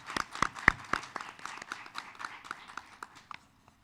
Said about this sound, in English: Let's give them one nice round of applause